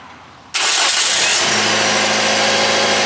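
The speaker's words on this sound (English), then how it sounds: "Give it about 10 seconds to charge your battery and start your car." A car engine cranks and catches right after a jump start from another vehicle, with a sudden loud burst that settles into a steady, close idle.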